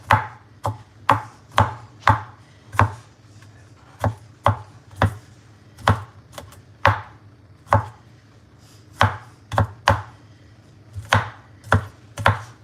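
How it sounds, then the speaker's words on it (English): A knife chops garlic on a cutting board with crisp, close knocks in uneven bursts of two to four strokes separated by short pauses, with no talk. "just chopping up the garlic."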